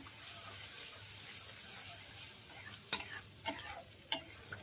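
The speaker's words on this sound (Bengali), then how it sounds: "খুব সুন্দর মশলাগুলো ভাজা হয়ে যাচ্ছে আর এদিকে তেলটাও রিলিজ হয়ে যাচ্ছে" Spice paste frying in a pan, a low steady sizzle broken by a few sharp scrapes and clinks of a spatula stirring against the metal, close up.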